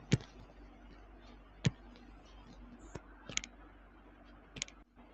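Sharp computer mouse clicks come one at a time at irregular intervals, close and fairly quiet, with a couple of quick doubled clicks near the end and faint room hiss between them.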